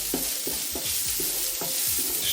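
Ginger, garlic and onions sizzle and fry in a pan, a steady hiss with a regular rhythm of scraping stirs, close and alone with no talking.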